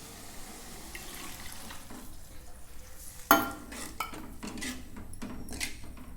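A single splash as water from boiled tomatoes is poured into a cooking pan, followed by soft sizzling and faint kitchen clatter against a steady low background hiss.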